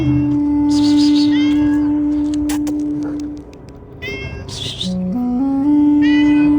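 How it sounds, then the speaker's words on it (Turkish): A cat meows repeatedly, probably hungry, at a mosque courtyard in the evening, with several drawn-out cries rising and falling close by over a steady background hum. "Sadece miyavlıyor."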